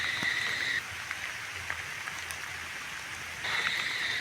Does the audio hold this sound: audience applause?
no